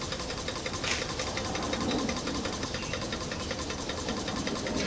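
A small Wilesco toy steam engine chuffs and clatters steadily nearby, a busy mechanical rattle that holds on without a break as the engine winds down.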